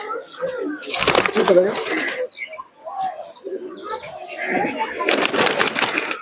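Teddy pigeons coo in a loft, soft repeated coos and chirps close by, broken by two bursts of wing flapping or rustling, with someone talking throughout.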